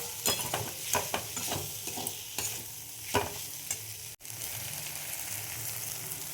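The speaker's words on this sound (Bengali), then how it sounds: "একটা টমেটো, এইগুলো একটু সটে করে নেব।" Tomato sautéing in a pan sizzles quietly and steadily, broken by repeated scraping stirs from a spoon, with one sharp momentary dropout partway through before the frying hiss resumes.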